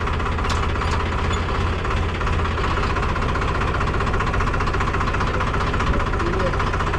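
A village tractor engine idles close by with a steady, rough, knocking rumble that does not let up, and a voice briefly speaks over it.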